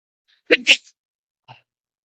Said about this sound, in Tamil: இங்க உங்களுக்கு ஒரு நிமிஷம் தும்மல் வருது.